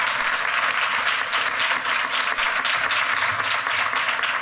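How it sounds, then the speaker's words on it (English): Steady audience applause fills a hall at an awards event, dense and sustained throughout with no pauses or voices standing out. "So huge applause"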